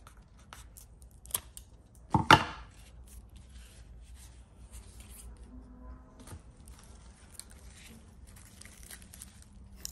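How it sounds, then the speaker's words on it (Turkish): Scissors snip through rotten orchid roots with one sharp, close crunching cut, then quieter rustling and handling of the plant against a mostly quiet background. "Böyle bir durumda bütün kökleri keserek orkidenin gövde kısmını iyice temizliyoruz"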